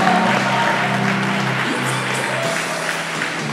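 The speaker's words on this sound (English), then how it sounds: "Audience members, can we have a round of applause for your men's physique competitors?" Applause at a men's physique bodybuilding show fills the venue as a steady wash of clapping, with some crowd noise and a background tone underneath.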